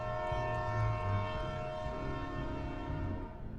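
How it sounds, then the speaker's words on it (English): A train horn closes a Tom and Jerry cartoon episode, sounding as a sustained, chord-like blast with a low rumble beneath, holding steady for several seconds before tapering slightly at the end. "The episode ends with the haunting horn of a train."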